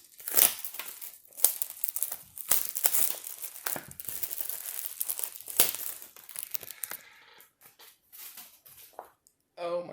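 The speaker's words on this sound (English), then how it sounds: "I have struggled with removing the tape" Plastic tape being peeled and pulled off a Microsoft Surface Duo box. Close, irregular crinkling and tearing bursts come in spurts, with quieter handling gaps between them and a voice now and then.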